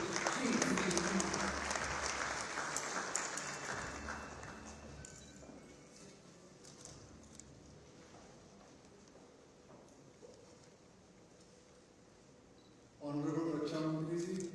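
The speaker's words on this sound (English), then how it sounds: "If you have a few round of applause, ladies and gentlemen" Audience applause at a formal ambassadors' round-table in New Delhi greets a speaker coming on stage, loud at first, then fading into quiet room noise before a voice begins over a microphone near the end.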